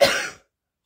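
A single short cough, close and fairly loud, that stops abruptly with nothing after it.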